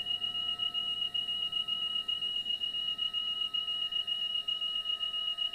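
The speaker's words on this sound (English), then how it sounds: "the minute you turn off the fuel selectors, you'll hear the beeps" Low fuel pressure warning beeps sound in the cockpit of the Black Square Caravan turboprop flight simulator after the fuel selectors are turned off: a steady, high electronic tone that pulses repeatedly at a moderate level, with no talking.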